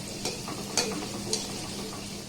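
Sweet palm fruit fritters fry in oil over a low to medium gas flame, a steady soft sizzle with a few faint stirring scrapes.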